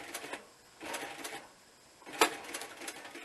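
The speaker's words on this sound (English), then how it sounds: "that's my little lock stitch, so I'm just sewing down that line now" A sewing machine runs a lock stitch along a seam on a bushcraft working vest, quiet bursts of rapid mechanical chatter starting and stopping, with a sharp click partway through.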